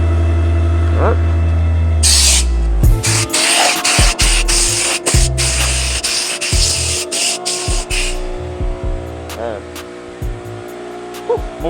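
Aerosol primer sprayed onto the bare metal of a Plymouth Roadrunner, a steady hissing burst of several seconds in the middle of the clip, close and loud, with shorter spurts and garage clatter around it.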